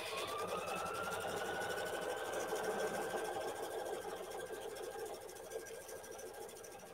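A sewing machine stitching a single-stitch patchwork seam, giving a steady, continuous whirring hum with a fine mechanical rattle that holds close and even throughout.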